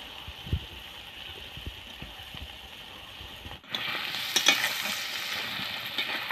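Fried potatoes tipped into pigeon meat curry and stirred in a pan, a low scraping stir first, then a louder bright sizzle that flares with clatters of the spoon near the end.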